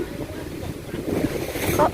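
Sea waves washing onto the beach at Mae Ramphueng in Rayong, a steady broad surf wash with wind noise buffeting the microphone, continuous and moderately loud.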